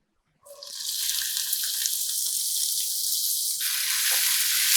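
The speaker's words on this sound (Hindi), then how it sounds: "प्याज को हमने 1 से 2 मिनट तक सौते करना है" Two chopped onions hit three tablespoons of hot oil, breaking into a sudden loud sizzle that holds as a steady, close hiss.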